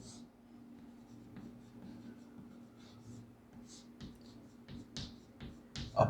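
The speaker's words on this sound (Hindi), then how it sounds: "अगला क्वेश्चन लिखते हैं।" Chalk or marker scratches and taps across a board as a physics question is written out, faint, irregular strokes with a few sharper knocks, under a low steady room hum.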